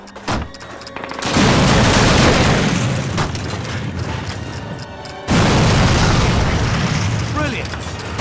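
Bombs detonate in the original 2003 Call of Duty game. Two heavy, booming explosions land a few seconds apart, each followed by a loud, sustained rumble of debris, with faint voices mixed in.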